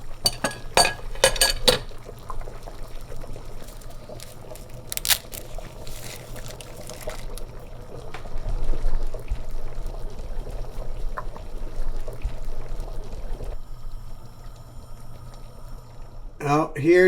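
A thickening mixture pours into a simmering pot of ash reshteh, Persian herb and noodle soup, giving a soft trickle and bubbling with a few clinks, while someone talks over it.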